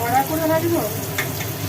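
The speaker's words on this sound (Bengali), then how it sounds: "ভেজে নাও টপি টপি লাল লাল করে" Food fries in a pan until reddish, a dense close sizzle that runs continuously with a faint stirring movement through the short stretch.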